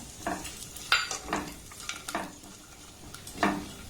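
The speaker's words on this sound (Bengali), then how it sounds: "গ্যাসের ফ্লেমটাকে লো রেখে এবার এই ড্রাই ফ্রুটগুলোকে একটু ভেজে নেব" Chopped almonds and cashews frying over a low gas flame, with soft, sparse sizzling under a handful of distinct scraping stirs spaced across the few seconds.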